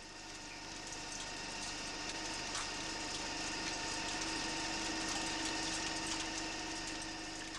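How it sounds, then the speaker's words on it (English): A capstan or turret lathe machines a drive shaft to diameter with a standard tungsten carbide facing and turning tool: a steady, quiet mechanical drone with a constant tonal whine and hiss, unbroken for several seconds. "the first operation is to machine the appropriate diameter. This is carried out with a standard tungsten carbide facing and turning tool."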